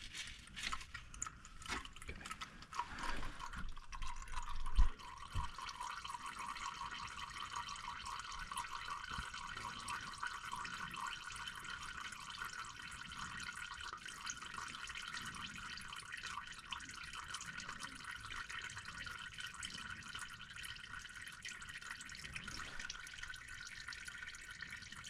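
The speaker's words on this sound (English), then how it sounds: "That should help it drain." Transmission fluid from a truck draining into a pan makes a faint, steady trickle and drip that runs on without pause, with a brief clunk near the start.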